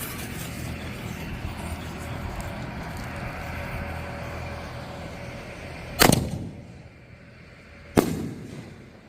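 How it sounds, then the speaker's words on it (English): Miracle Fireworks Killer Torpedoes 7-inch canister shells fire outdoors, with a steady crackling, hissing roar followed by two sharp, loud booms about two seconds apart, each trailing off quickly. "This is shell 24, miracle fireworks, 7-inch canister shells, Killer Torpedoes."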